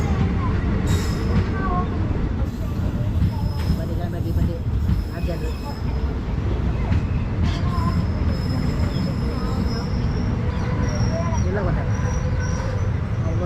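The Tambaram to Senkottai SF Express on the move: a steady, loud rumble of carriages with metallic wheel squeals, and people talking over the noise throughout.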